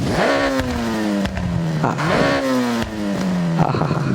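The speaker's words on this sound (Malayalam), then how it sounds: "എക്സോസ്റ്റിൻ്റെ കാര്യത്തിൽ ഒരു കോംപ്രമൈസ് ഇല്ലാത്ത റേസ് തന്നെ." Honda Civic race car in Forza Horizon with an uncompromising race exhaust, revving hard twice in rising sweeps, loud and close, with a raspy, crackling tone.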